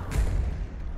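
A single deep explosion in the video game Battlefield 2042, a low booming thump that rumbles and fades over about a second.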